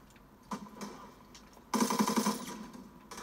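Gunfire in Call of Duty WWII gameplay: a short burst near the half-second mark, then a louder rapid automatic volley from about 1.7 seconds on, rattling steadily before fading.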